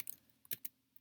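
A few quiet keyboard keystrokes tapped out in short, irregular bursts during a statistics lesson, with long gaps of near silence between them.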